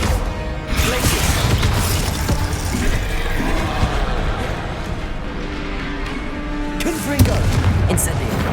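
Loud, dense spell-combat effects from the video game Hogwarts Legacy, including the Glacius freezing spell, crack and crash continuously with booming impacts and a sharp burst near the end, mixed with a voice calling out.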